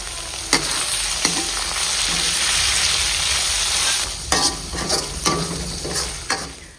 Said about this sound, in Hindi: तो प्याज अच्छे से भुन गया था